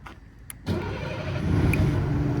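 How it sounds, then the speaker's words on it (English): A 2007 Peterbilt 335 truck engine cranks and catches after a few brief clicks, then settles into a loud, steady idle that builds slightly, close by. "turn the truck on from that same toggle as well"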